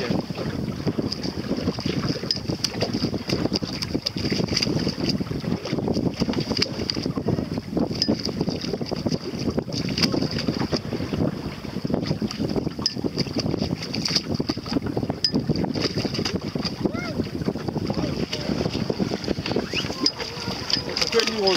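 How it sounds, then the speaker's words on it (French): Small Pacer 2 sailboat picking up speed through big waves in Morlaix Bay near Carantec, with hull slapping and rushing water under heavy wind buffeting on the microphone, steady and close throughout, with a brief spoken interjection. "quand on accélère un petit peu, il y a des grosses vagues"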